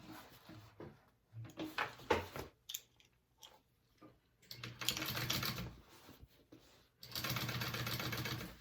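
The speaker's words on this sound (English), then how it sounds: "I'm going to top stitch on this contrast piece that I just put on" A sewing machine top stitches a contrast piece on a tote in short stop-start runs, ending with two longer steady stretches of stitching, close and fairly quiet.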